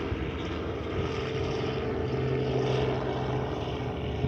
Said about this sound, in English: I'm gonna try to talk over this helicopter, even if it's unintelligible.